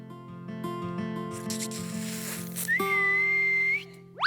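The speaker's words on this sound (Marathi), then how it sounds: "ए तू शिट्टी का मारलीस?" A person whistles a clear, steady tune in a home setting, close and fairly loud, with a long sustained high note near the end.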